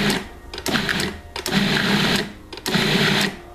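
A food processor pulses sweet roll dough, wet and dry ingredients together, in three short whirring bursts separated by brief pauses, close and loud.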